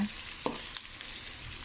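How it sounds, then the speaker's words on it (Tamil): Onions fry in a pan as the base for a homemade mushroom gravy, a steady close sizzle with a few light clicks of stirring, and no voices. "பொன்னிறமாக வர்ற வரைக்கும் இது கொஞ்சம் வேக விடுங்க"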